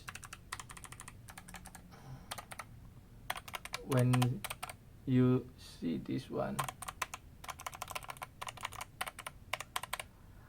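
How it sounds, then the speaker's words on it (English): Clicky white switches on a thin Keychron K5 ultra-slim wireless mechanical keyboard rattle in quick, close bursts of typing, pausing while someone speaks briefly in the middle. "this one come with the white clicky switch"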